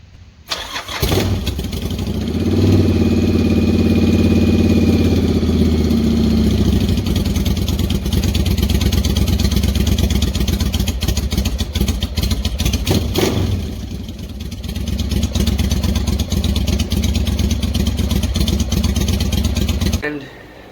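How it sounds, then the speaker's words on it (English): A dirt bike engine starts up and runs loud and close, revving hard for several seconds, dipping briefly, then revving again before cutting off abruptly; some talk may be mixed in. "this bike ran. I was riding the bike, have a video, might actually just put it right here."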